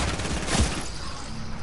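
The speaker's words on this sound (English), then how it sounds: "He's shooting at me, dude." A roleplay video game delivers a short, loud burst of rapid gunfire that runs almost continuously, with one heavier thump in the middle and no talking.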